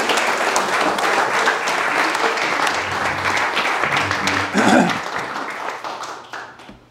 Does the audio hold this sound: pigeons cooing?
no